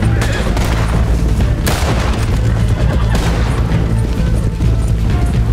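Gunfire in Red Dead Redemption 2 during a shootout with lawmen: dense, loud, continuous volleys of shots with sharp cracks and booming impacts throughout, no talk over it.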